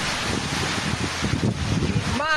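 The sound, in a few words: strong typhoon wind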